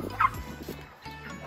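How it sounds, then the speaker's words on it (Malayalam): Young turkey chicks on a small poultry farm give a short burst of gobbling calls. The calls are close and fairly loud, then trail off into quieter peeps over low background noise. "ഇത് ടർക്കി കുട്ടികളാണ്"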